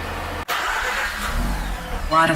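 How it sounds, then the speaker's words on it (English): A 2007 Mazda RX-8 with a coolant problem pulls away. A steady, close engine drone rises slightly toward the end, after a brief cut near the start, with no speech over it. "I'm gonna drive around the block and see what's going on."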